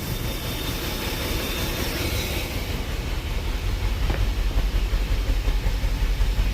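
A 1976 Mercedes 450 SL engine runs steadily at idle, a continuous low rumble that holds even and close, growing slightly louder toward the end, with no voices over it.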